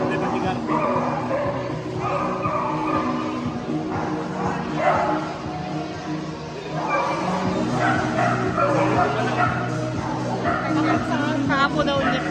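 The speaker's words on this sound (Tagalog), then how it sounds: "Ang daming aso." Several dogs bark and yip near a vaccination stop, busy and overlapping, with people talking over them.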